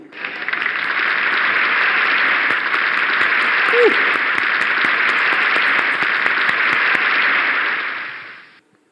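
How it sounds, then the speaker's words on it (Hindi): Loud, sustained applause from a crowd claps steadily for several seconds before fading out quickly at the end. "जोरदार तालियां।"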